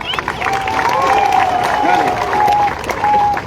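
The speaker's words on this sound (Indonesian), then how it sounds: "Tepuk tangan buat teman-teman Nusantara." A crowd at a peaceful Papuan community gathering in Jayapura claps steadily in open air, the applause mixed with a whistle-like tone and loud voices over the top.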